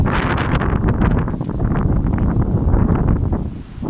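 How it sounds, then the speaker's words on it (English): A strong outdoor gust of wind roars and buffets close against the microphone, a dense, continuous rushing that swells and holds for several seconds with no voices. "Big wind gust. It's always gusty here."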